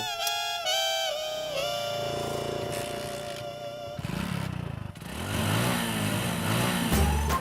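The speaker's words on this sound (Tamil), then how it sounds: "அதான் வண்டி ஸ்டார்ட் ஆயிடுச்சுல" A motorbike engine cranks and catches after having been switched off, then settles into a steady idle and revs, heard close and fairly loud with no talking.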